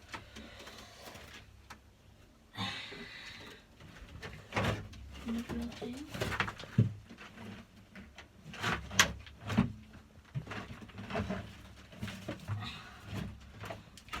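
Pigeons coo repeatedly in close range, mixed with scattered knocks and rustling, while a person talks intermittently over them.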